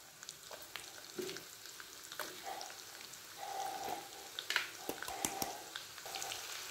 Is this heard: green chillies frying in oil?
yes